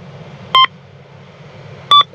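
A carp-fishing bite alarm radio receiver by a river gives two short, loud electronic beeps about a second and a half apart over a low steady hum.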